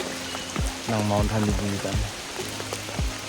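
Heavy rain pours at a camp on Mount Hamiguitan, a steady hiss of falling water behind someone speaking, with brief tonal sounds rising through the middle.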